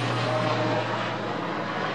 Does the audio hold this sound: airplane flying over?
yes